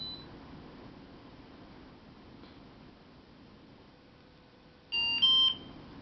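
Pixhawk 2.4.8 flight controller gives a short electronic beep tune as the remote control is switched on, a quick pair of high tones near the end after quiet background hiss.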